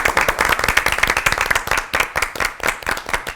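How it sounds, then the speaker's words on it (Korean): Studio audience at a televised Christian hymn program claps in a fairly close, rhythmic burst of hands with brief pauses, lively and loud throughout. "박수로 좀 자리로 보내드리겠습니다."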